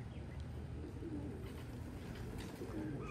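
Racing pigeons coo softly at a loft on a foggy day during a 40-mile race, with low, faint calls repeating over quiet background hiss.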